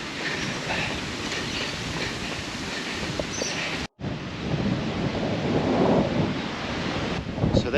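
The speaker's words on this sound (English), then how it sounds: "That wind is giving me a decent old push." Strong outdoor wind buffets past a runner, a steady broadband roar with gusting swells and one sudden brief dropout midway, loud and close throughout.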